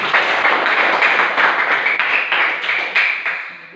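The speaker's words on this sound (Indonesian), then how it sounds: "Tepuk tangan dulu untuk anak-anak." Classroom of children and their teacher applauding together, a dense, fairly loud burst of clapping that holds steady for a few seconds before thinning out at the end.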